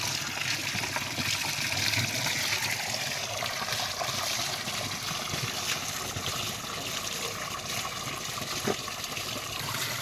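Water running and trickling continuously over freshly harvested valli yam tubers being washed, a steady close splashing wash with small drips, no talk.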